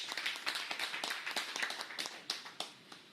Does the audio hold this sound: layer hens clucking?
no